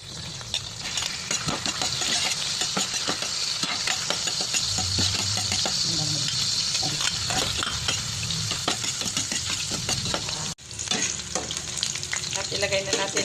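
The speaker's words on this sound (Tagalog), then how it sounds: "Dahil tapos na natin siya prituhin, gisa naman natin siya sa bawang sibuyas." Pork steak sautéing with garlic and onion in leftover frying oil, a loud dense sizzle with constant stirring and spatula clatter, cut off abruptly then resuming.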